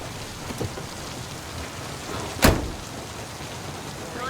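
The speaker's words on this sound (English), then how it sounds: "Constantine, it's raining!" Steady rain hisses throughout, a dense wash of falling water, with a sharp crack or thump cutting through midway.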